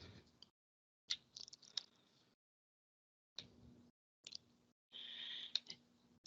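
Computer keyboard typing in short, faint bursts of light clicks separated by silent gaps, close by with no talking.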